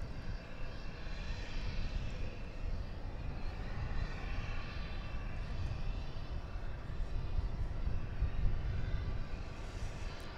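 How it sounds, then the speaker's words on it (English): Spirit Airlines airliner passing at DFW Airport, a steady broad engine roar held at a constant level throughout, swelling slightly toward the end, with no talk. "There's Spirit Airlines, flight 268, it's going to Las Vegas."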